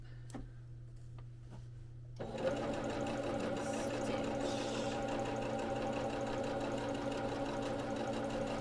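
A home sewing machine stitches embroidery onto an apron, starting after a few faint ticks and then running steadily and loudly without pause at close range.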